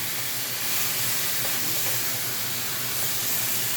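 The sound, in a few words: marinated chicken frying in pan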